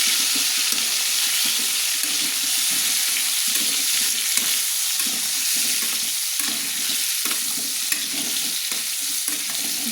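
Potato pieces with salt and turmeric sizzle and fry in a pan as they are stirred, a steady close hiss with occasional scraping clatter and no talking.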